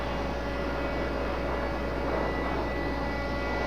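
UPS MD-11 cargo jet departing Raleigh Durham airport at night, a steady droning engine roar at moderate distance, unbroken and even in level.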